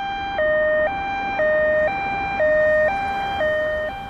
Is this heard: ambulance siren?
yes